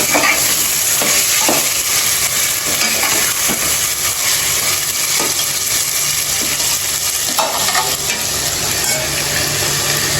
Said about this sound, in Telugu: ఇలా బాగా కలపాలండి.